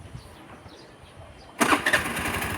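A Suzuki Burgman 125 scooter engine starts up abruptly partway through after a quiet stretch, then runs on at a steady, fairly loud idle close by.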